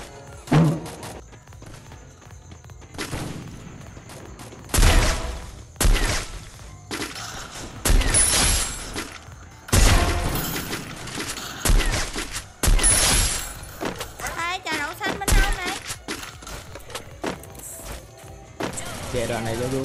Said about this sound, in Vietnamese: Giai đoạn này tôi bắn hết sức.